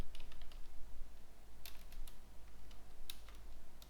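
Soft, steady typing on a computer keyboard, a run of quiet clicks and occasional sharper key taps over a low electrical hum, with no one speaking.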